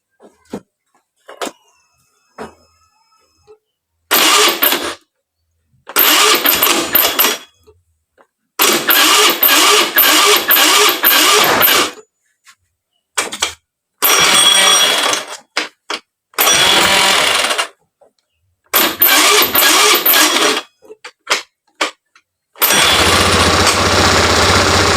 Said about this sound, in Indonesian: Langsung saja kita coba untuk dibunyikan motornya